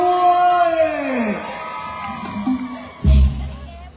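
A crowd whoops and screams loudly, with rising and falling shrieks and a sudden burst of cheering near the end.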